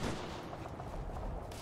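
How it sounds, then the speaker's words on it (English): Gunfire in the military shooter game Operation Flashpoint: Red River, a dense and steady burst of crackling shots that fills the whole stretch with no pause. "I hear gunfire."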